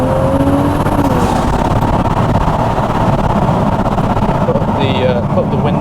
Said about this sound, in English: We can show off this exhaust